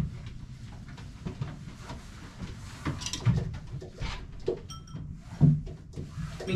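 Janssen pigeons coo in a loft, soft low throaty calls repeating under a rustling, shuffling background with a few wooden knocks and clatters nearby.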